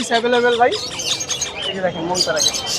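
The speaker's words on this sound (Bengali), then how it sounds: "এরপরে মং প্যারাকিট আছে আমার কাছে আলহামদুলিল্লাহ মং প্যারাকিট" Moustached (Mong) parakeet at a bird market in Mirpur, Dhaka, gives loud, close, squawky chirps and whistling calls in quick bursts, mixed with nearby voices talking.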